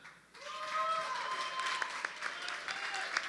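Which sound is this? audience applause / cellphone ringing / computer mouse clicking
audience applause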